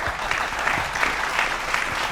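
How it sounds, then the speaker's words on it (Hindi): An audience claps steadily in a dense, continuous burst of applause throughout the short moment, fairly close and even in level. "तो एक बार बता दो ताली बजा के"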